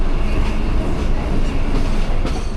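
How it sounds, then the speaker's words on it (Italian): A Mumbai suburban train rumbles loudly and steadily, with rattling wheels and a constant roar close by throughout. "Il treno interno di Mumbai è una specie di metropolitana di superficie"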